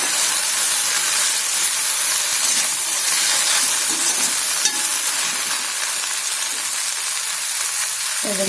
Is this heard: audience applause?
no